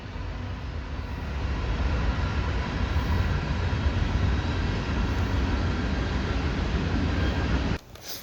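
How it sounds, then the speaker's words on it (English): A train roars past at close range, a loud, steady broadband rumble lasting several seconds before cutting off abruptly. "Train! Coming the other way."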